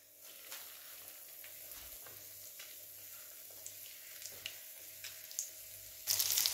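Breadcrumb-coated potato shami kebabs fry in a pan with a soft, steady sizzle and a few faint pops, swelling louder near the end.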